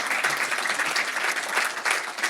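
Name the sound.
audience applause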